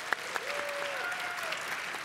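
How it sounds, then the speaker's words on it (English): An audience at a GIS conference plenary cook-off claps in a dense, steady wash of applause, moderately distant, with a faint voice briefly audible underneath. "please applaud for Chef Joe"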